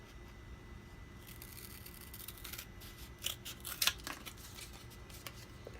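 Scissors snip out bank card protector pieces, with a few quiet crisp cuts and paper rustles at close range against a faint background hum, no voices present.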